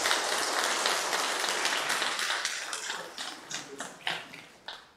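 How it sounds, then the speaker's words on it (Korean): A church congregation applauds during a Sunday worship service to welcome a young man home on his first leave from military service. Steady, dense clapping fills the room, then breaks into a few scattered claps before fading out. "네, 박수하죠."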